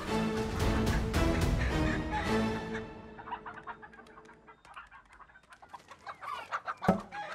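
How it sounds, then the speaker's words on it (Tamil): Native country chickens cluck in scattered short bursts, fairly close, after a louder stretch of clattering noise at the start. "என்னப்பா நாட்டுக்கோழியா?"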